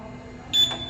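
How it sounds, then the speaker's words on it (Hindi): An FM200 fire suppression control panel sounds its trouble buzzer: one short, sharp electronic beep over a low background hum. "अभी ये जो हमारे पास ट्रबल का बजर दे रहा है"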